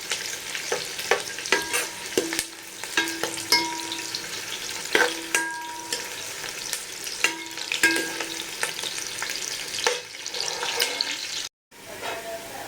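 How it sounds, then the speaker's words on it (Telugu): Lengthwise-sliced onions fry for veg biryani with a steady sizzle, broken by repeated scraping stir strokes from a spatula at an uneven rhythm, close and clear. "ఆనియన్స్ బ్రౌన్ కలర్ వచ్చే వరకు వేయించుకొని ఇవన్నీ ఒక ప్లేట్లోకి తీసుకుందాం."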